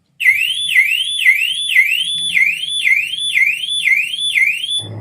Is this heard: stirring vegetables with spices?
no